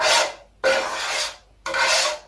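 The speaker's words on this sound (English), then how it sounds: "I'm just going to scrape that cornmeal that's been in there to the side." Cornmeal being scraped aside in a frying pan while making English muffins from hot roll mix: three close, loud raspy scraping strokes, each lasting under a second, separated by brief pauses.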